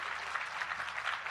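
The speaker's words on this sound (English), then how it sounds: "a round of applause for our panelists." An audience at a literature festival panel gives the panelists a brief, fairly quiet burst of applause, a soft patter of clapping that continues evenly throughout.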